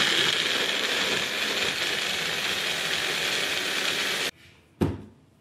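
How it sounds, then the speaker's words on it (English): A Magic Bullet blender pureeing salsa into a foam whirs with a loud, steady motor drone for about four seconds, then cuts off, followed by a short clunk and a fading rattle. "blend this up in your blender, in your magic bullet, and I mean puree this stuff"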